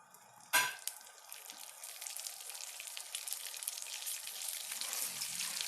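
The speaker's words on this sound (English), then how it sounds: "When I will see the smoke coming out of the oil, I will add a quarter cup grains of corn." Popcorn corn kernels, a quarter cup, hit smoking-hot oil in a pot with a sharp burst at the start, then settle into a steady, bright sizzle that holds throughout with no talking.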